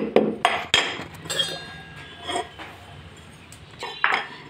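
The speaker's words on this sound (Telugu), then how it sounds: "ఒక 4 మిరియాలు, అలానే సొంటి వేసి బాగా దంచుకోవాలి" Black pepper and dry ginger pounded in a mortar: a handful of sharp, close, metallic-sounding strikes at an irregular pace, each with a short clinking ring, separated by quieter gaps.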